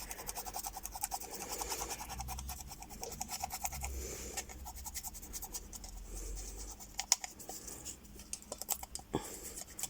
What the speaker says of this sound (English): a little scrap of paper and a file, just a nail file, and we'll just gently scratch over the top of this